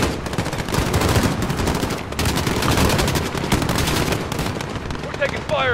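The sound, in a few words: gunfire in video game Call of Duty Modern Warfare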